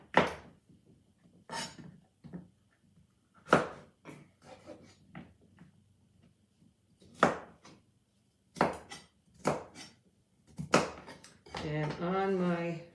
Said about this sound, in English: And now we'll cut this up as well. Bite-sized pieces.